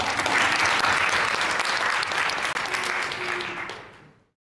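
Audience applause at a student panel in Montréal fills the room, a dense, steady wash of many hands clapping close by, holding loud for about four seconds before cutting off abruptly into silence.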